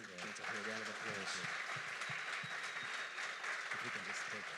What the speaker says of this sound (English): let's give all gents up here a round of applause.